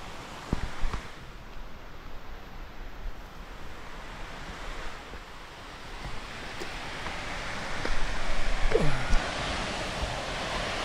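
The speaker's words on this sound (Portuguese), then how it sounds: "Cachoeira muito linda essa cachoeira aqui" A waterfall in Petrópolis with low water flow rushes steadily, a broad hiss of falling water that swells louder toward the end, with occasional nearby knocks and handling bumps.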